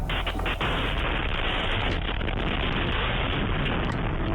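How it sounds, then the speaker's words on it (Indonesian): A loud, rumbling blast from a rocket strike on a populated area, with a roaring, sustained burst of noise that fills the whole clip. "Serangan ini pun memicu ledakan besar dan kebakaran."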